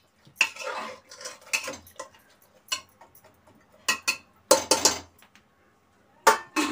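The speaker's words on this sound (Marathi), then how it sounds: "परत एकदा व्यवस्थित मिक्स करून घेते" Taro leaves get mixed with spices and salt in a metal pot, making bursts of clinking and scraping spoon-on-pot clatter separated by short quiet gaps, close by and fairly crisp.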